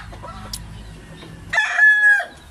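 A barako rooster, being kept as a breeding cock, crows once near the microphone for about half a second, loud and clear above a low background hum.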